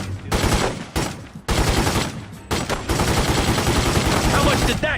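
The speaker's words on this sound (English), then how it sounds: "Oh, Christ, he's gonna shoot!" Sustained gunfire in The Godfather 2 video game, loud bursts of shots and rapid automatic fire crackling almost continuously with brief gaps, close and dense throughout.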